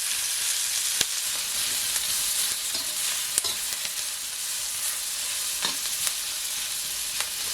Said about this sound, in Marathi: कांदा पण आहे ना मस्त असा ना खरपूस एकदम भाजून घ्यायचा